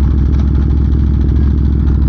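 A 2022 Ducati Monster+ or 2022 Triumph Speed Twin motorcycle engine runs steadily and loud at close range, a dense continuous low rumble with even pulsing and no voices.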